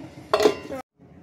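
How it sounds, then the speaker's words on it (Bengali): Food being tossed and mixed in a pan, a short metallic clatter of cookware and utensils, close and clear, followed by a brief gap and a low trailing rustle. "এবার এটাকে নাচাতে হবে, সব কিছু নাচিয়ে নাচিয়ে মেশাতে হবে।"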